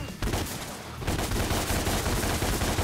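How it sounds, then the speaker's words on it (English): Rapid gunfire from DmC: Devil May Cry, a loud continuous stream of shots over a thick layer of game noise with no pause. "I'm going to shoot this guy in the nuts while he's upside down about 2 feet from the ground"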